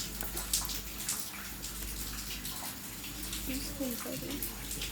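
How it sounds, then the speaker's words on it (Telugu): Two spoons of mustard seeds are dropped into heated oil in a pot while making mango pickle. They give a continuous close sizzling hiss with scattered small crackles, and a faint voice can be heard in the background. "ఇప్పుడు నూనె కాగాక ఇందులోకి ఆవాలు వేసుకోవాలి ఒక టూ స్పూన్స్ వేసుకోవాలి"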